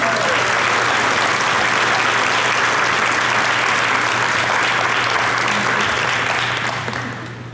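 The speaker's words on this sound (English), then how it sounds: "please give one more round of applause for these students" A school awards day audience gives students a sustained, loud round of applause, dense clapping from a large crowd that carries on for several seconds before tapering off.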